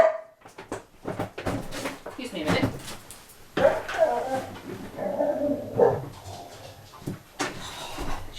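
A pet guard dog barks in short, sharp bursts mixed with high whimpers, fairly near and loud, while a person talks in between and over the noise.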